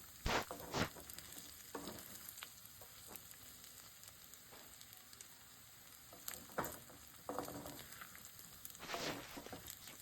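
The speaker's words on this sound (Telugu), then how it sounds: "మధ్య మధ్యలో కలుపుకుంటూ బాగా వేయించుకోవాలి" Chicken pieces fry in a pan with coriander powder for a homemade Telugu chicken fry, a steady low sizzle broken by several sharp scraping stirs, close and moderately loud, with no talking.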